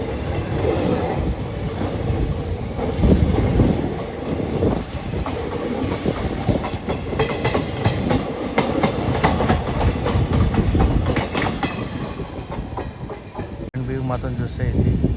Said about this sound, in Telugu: Wag 9 locomotive.